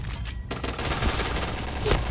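Rapid bursts of gunfire from a shooter video game featuring the AUG A3 rifle, a dense fusillade of close, loud shots with a couple of sharper cracks near the end.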